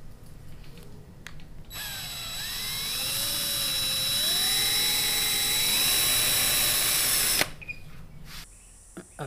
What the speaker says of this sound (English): So I'm gonna drill this.